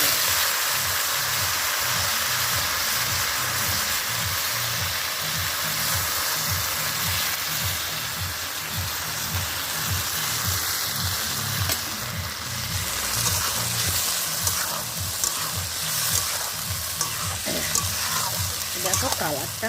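Marinated goat head meat and fat fry in a pan, a loud continuous sizzle with wet bubbling and rhythmic stirring scrapes throughout, with no talk.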